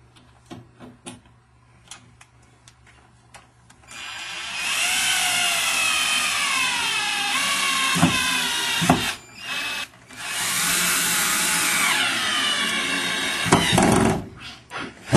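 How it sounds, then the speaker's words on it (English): A power tool, likely a drill, drives fasteners through a plywood patch behind drywall during a home hole repair, running in two sustained whirring bursts of several seconds each with short pauses between. "Now they're fastening the piece of plywood."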